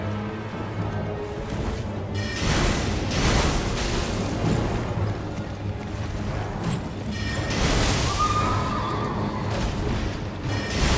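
A horse whinnies in the video game Elden Ring during a mounted boss fight, partly buried under dense combat booms, rushing effects and thuds, with a brief neigh rising out of the din.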